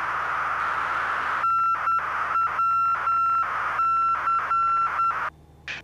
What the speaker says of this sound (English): The Morse code spelling out GWC.